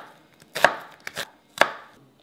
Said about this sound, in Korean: 깨끗이 씻은 야채를 얇게 썰어 주세요.